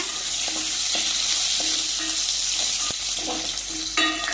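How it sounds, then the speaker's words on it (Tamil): Chopped garlic sautés in a pan with a steady, loud sizzle, broken by intermittent scraping and stirring clinks of a utensil against the metal. "இப்போ நம்ம கட் பண்ணி வச்சுருக்க பூண்டு ஆட் பண்ணிக்கலாம். லைட்டாக வதக்கிக்கோங்க."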